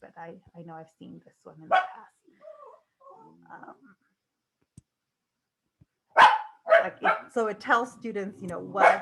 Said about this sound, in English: I'm sorry about my dogs.